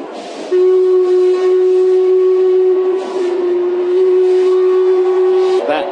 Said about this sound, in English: Princess Elizabeth steam train on Battersea Rail Bridge